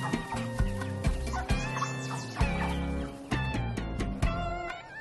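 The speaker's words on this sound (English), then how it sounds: "All around him are chickens that are eating their corn and are looking for worms in the ground." Farmyard chickens pecking at corn and foraging for worms, clucking in a scattered, busy rhythm with sharp pecks and thumps, moderately close and without talk.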